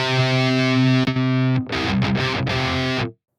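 Distorted electric guitar through the Aurora DSP Kobraa amp plugin, modeled on a Framus Cobra, holds a heavy sustained chord, then chops into a few quick, tight stabs before cutting to silence.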